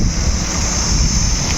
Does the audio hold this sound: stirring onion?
no